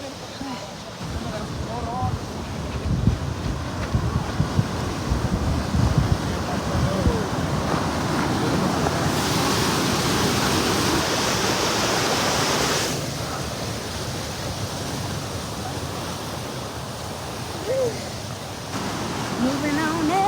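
Steady broadband rush of a waterfall, loud and continuous, with wind buffeting the microphone and brief voices and movement sounds mixed in near the start.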